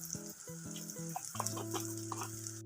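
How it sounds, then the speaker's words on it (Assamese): Chicken masala with Kashmiri red chili powder and turmeric sizzles in a pan as it is stirred, a soft frying crackle under scraping, joined by a sustained tonal hum. "মছলাখিনি ভালকৈ লৰাই দিম। লৰাই ভালকৈ মছলাখিনি ভাজ খাব দিম।"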